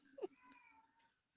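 A pet cat lets out one short meow, fairly quiet and close, with voices talking faintly around it.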